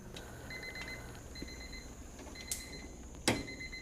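A kitchen timer goes off while purple hull peas blanch in a pot: faint, quick electronic beeps sound in short repeating bursts, with a couple of sharp clicks and a steady low background hum.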